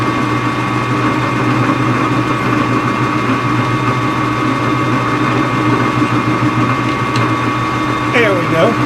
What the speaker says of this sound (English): let's see if we can get a little bit of a chamfer in here